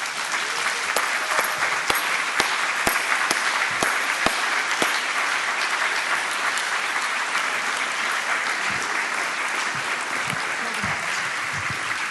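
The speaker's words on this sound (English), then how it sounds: "Would you please come on the stage so that we can give you a big round of applause and thank you properly." Conference audience applauding the event team at a Walk21 Ireland closing session, loud sustained clapping from a large crowd with a few sharp near claps at the start, continuing steadily throughout.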